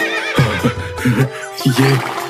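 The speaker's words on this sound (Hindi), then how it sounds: "जब उन्होंने घोड़े को देखा तो जोर जोर से वो हिनहिनाने लगा" A horse neighs loudly in several strong, wavering whinnies spread across about two seconds, close and clear with no talking.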